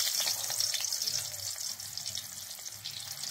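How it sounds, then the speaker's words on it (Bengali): New potatoes frying in hot oil in a wok give a steady, bright sizzling hiss close up, fairly quiet and continuous throughout. "তেল দেওয়ার পরে চলে যাবে নতুন আলু।"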